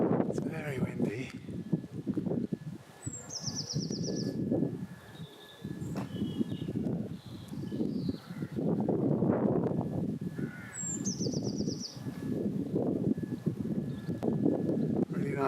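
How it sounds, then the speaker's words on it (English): Gusty outdoor wind buffets the microphone in low rumbling surges throughout, while crows caw twice in the distance and a person talks over it. "It's very windy."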